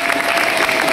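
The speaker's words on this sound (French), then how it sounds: "On l'applaudit très très fort." Audience applause for an 89-year-old godmother, a dense, loud wash of many hands clapping without a break.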